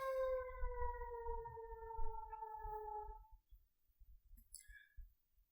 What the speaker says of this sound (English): Just gonna wait for this siren to pass.